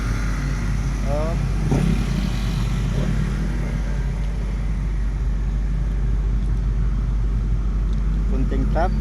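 Road traffic of cars and motorcycles, a constant low engine rumble with occasional revving passes close by, steady and loud throughout under faint background voices.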